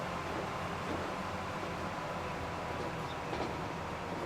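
A train rolling along in the railway simulation game Transport Fever, a steady, dense rumble and hiss of wheels and carriages that stays even throughout, with no talk over it.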